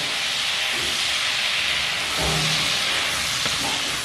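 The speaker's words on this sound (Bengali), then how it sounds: "আলুগুলোকে এবার ভালো করে ভেজে নিতে হবে।" Potatoes with a little turmeric fry in a pan, giving a constant close hiss with a brief soft knock partway through.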